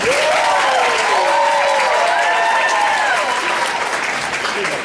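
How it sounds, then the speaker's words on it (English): Loud, sustained applause from an audience at a masquerade show, a thick continuous clapping wash with whoops and cheering voices sliding over it. "So can we please have a round of applause for Ms. Kimberly Vincent."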